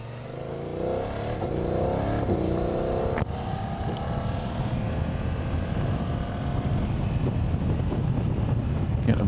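BMW F900GS motorcycle riding along a road, a continuous wind-buffeted engine drone with a brief gear-change sweep early, steady and close throughout.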